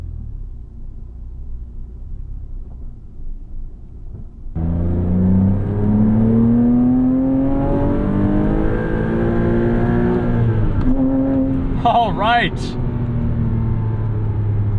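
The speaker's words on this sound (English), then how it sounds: "a proper Porsche flat six with that glorious howl" A 2006 Porsche Cayman S with its M97 flat-six engine rises from idle into a loud, smooth howling rev, climbing and dropping in pitch, while someone speaks briefly over it.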